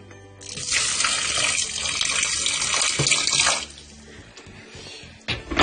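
Water pours steadily from a tap into the inner pot of a Yum Asia Kumo rice cooker, a loud continuous gush that stops after a few seconds, followed by light clatter.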